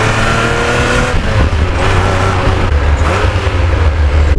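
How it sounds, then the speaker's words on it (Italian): Ferrari Testarossa flat-twelve engine roaring from inside the cabin, a loud, steady, throaty drone that rises and falls slightly as the gears are worked, with no talk over it. "c'è tantissimo rumore di motore all'interno della macchina"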